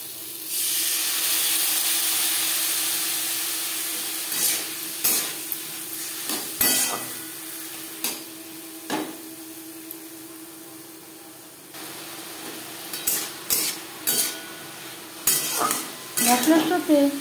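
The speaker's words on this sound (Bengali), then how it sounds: "মশলার সাথে সবজি বেশ ভালো করে কষিয়ে নেওয়া হয়ে গেছে।" Vegetables sauté with spices in a pot, with a steady sizzle and hiss running under intermittent metal clinks and scrapes of stirring, close and fairly loud.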